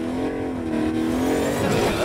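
A car engine in the video game Agents of Mayhem revs hard and loud, holding a steady droning pitch that climbs slightly, with a hint of tire noise and no voices.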